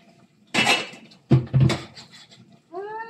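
Vegetables stirred in a cooking pan with little or no water give two short bursts of scraping, clattering utensil-on-pan noise, followed by a brief voice near the end.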